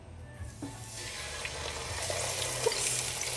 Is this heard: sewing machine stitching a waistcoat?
no